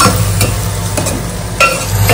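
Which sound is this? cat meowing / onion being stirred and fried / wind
onion being stirred and fried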